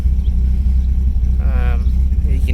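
2004 Dodge Viper SRT-10 with side exhaust idling after start-up, a loud deep rumbling throb held steady throughout, with a voice speaking briefly over it midway.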